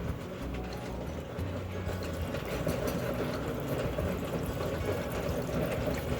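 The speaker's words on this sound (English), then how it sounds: "get some water in here." Water pours steadily into a rock tumbler barrel filled with rocks, a continuous close, splashy gurgle lasting several seconds with no talking.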